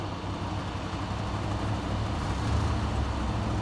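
A Ford car driving over small snow drifts on an ice road in Quebec, a steady broadband rumble of engine and tyres over rough snow, close and continuous with no talk.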